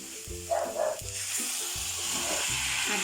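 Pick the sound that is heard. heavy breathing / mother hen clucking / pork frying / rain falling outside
pork frying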